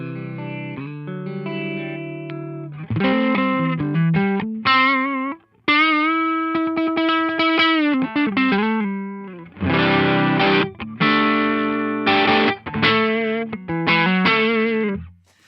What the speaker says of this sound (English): all the drive you're hearing is from the amp, from you hitting the front end of the amp